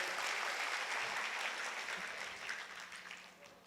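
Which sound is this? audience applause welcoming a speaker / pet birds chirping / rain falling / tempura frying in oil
audience applause welcoming a speaker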